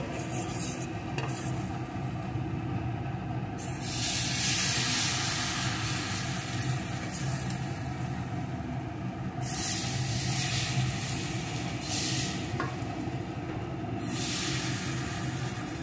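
Steady hiss and sizzle of spicy patishapta, a savory rolled crepe, frying in a pan over low heat, continuous and close, with soft stirring or scraping textures and no talk.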